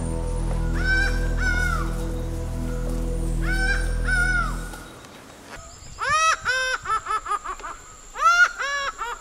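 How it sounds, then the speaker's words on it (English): A laughing falcon calls outdoors in repeated loud, laughing bursts, several series of rising and falling notes, with a second bird joining in near the end. "The laughing falcon is more often heard than seen,"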